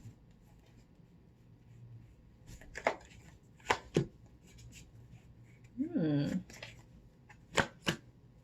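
Tarot cards are pulled and shuffled in quiet, close taps and slaps, with a short riffle and a faint vocal sound in the middle.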